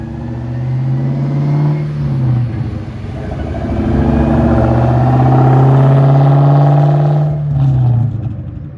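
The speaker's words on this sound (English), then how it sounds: "we'll get y'all some drive-by shots." A New Edge Ford Mustang Bullitt drives past, its deep V8 rumble swelling as it approaches, holding loud near the middle, then fading away as it leaves.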